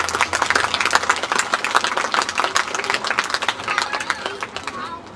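An audience at an outdoor birds of prey show applauds a trained bird, with dense continuous clapping that slowly thins out toward the end. Crowd chatter runs faintly underneath.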